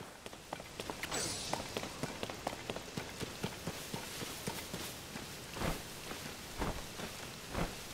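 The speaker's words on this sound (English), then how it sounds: "Unfortunately, it's raining" Steady rain patters across the ground in the video game The Legend of Zelda: Tears of the Kingdom, a dense hiss broken by sharper drop-like clicks and occasional louder taps, with no talking.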